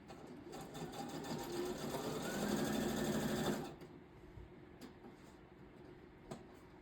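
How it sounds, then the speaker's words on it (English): A sewing machine stitches in a fast, steady mechanical whir for about three and a half seconds, building slightly before stopping abruptly, followed by a few faint clicks and handling sounds in a quiet room. "Now let me sew this one real quick."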